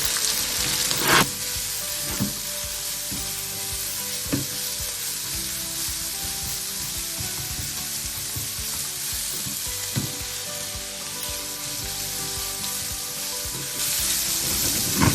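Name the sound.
sautéing ginger, garlic and shallots in a pan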